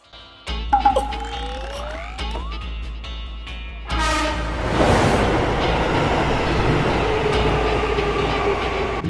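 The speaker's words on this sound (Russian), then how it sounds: "Поезд прибывает." Train pulling into a station: a steady rumble of rail cars rolls in alone and grows louder partway through, with a brief rising squeal of wheels or brakes near the start.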